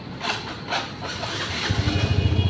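A motorcycle engine revs unevenly, then settles into a rapid, choppy putter that stutters and pulses as if struggling to keep running.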